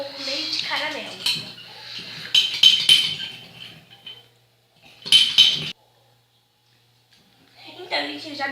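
Spoon clinking and scraping in a mug while water and sugar are stirred for microwave caramel, in short bursts of clatter separated by pauses, with a person talking over the first part.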